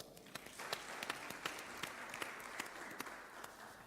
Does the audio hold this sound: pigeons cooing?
no